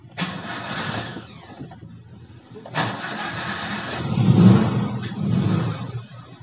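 A 1997 Suzuki Sidekick engine cranks and catches twice in succession, each start rising into a loud, close, rough idle that swells and settles without any talking.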